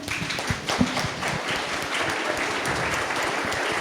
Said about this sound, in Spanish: les agradecemos a todos nuestros participantes el estar aquí, muchas gracias, un aplauso por favor